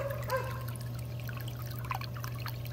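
Pool water runs steadily past a redneck pool heater in a soft, continuous trickling flow, with a low hum underneath and a few brief splashy bursts.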